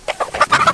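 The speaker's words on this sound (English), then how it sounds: "these chickens come around" Farm chickens clucking near a goat pen, a quick run of short, close, fairly loud clucks over under a second, with no talking.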